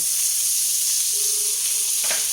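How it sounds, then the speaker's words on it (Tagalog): Butter sizzles loudly and close in a pan while sautéing for squid adobo, a dense continuous hiss with a faint tonal whine and a short clatter near the end. "wala tayong mantika, butter yung ating ipanggigisa"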